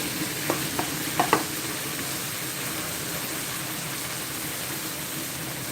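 Minced pork sizzles steadily in a hot pan, a broad hiss with a few soft clinks of stirring near the start.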